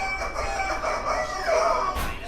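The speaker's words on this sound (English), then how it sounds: "Some idiot with a chicken." A rooster crows outside a Florida holiday villa, a drawn-out, wavering call heard at moderate distance over background hum, alone with no talk.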